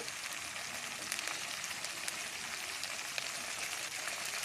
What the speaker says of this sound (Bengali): সবগুলো মশলা আমি এখন সুন্দর করে একটু ভাজা ভাজা করে কষিয়ে নেব।